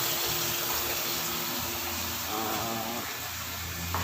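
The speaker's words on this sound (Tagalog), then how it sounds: "Drain muna natin yung tubig bago timplahan" Water runs and trickles steadily from washed chicken skin throughout, a continuous close-up gushing drain with faint clinks mixed in.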